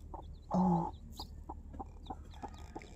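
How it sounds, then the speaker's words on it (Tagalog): Young chicks peck at crushed feed, making soft, evenly spaced tapping sounds close by, with one louder cluck near the start and faint chirps in the background. "Nanunuka sila. Hindi pa marunong masyado tumuka yung mga sisiw."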